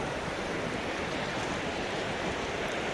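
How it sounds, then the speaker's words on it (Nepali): Constant surf and sea wash fills the air while someone walks through shallow seawater, a broad, unbroken roar of waves with a touch of wind. "अहिले हामी लिटरल्ली समुद्रमा हिँड्दैछौँ"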